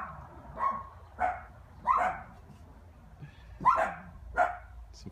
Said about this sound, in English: Some friendly dogs on the other side.